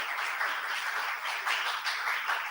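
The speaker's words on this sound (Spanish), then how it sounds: "Un fuerte aplauso" Audience applause at a university law school lecture on intellectual property, steady dense clapping from a crowd filling the space for the whole stretch without a break, heard at moderate distance.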